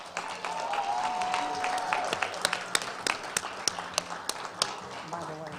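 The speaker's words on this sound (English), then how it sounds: "A huge round of applause." Audience at a community health and wellness fair applauding student ambassadors from a high school, a steady dense clapping with sharp individual claps standing out, some cheering and voices mixed in throughout.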